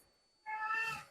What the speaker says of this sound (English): ignore my cat, I'm sorry, he's very old and he doesn't stop meowing.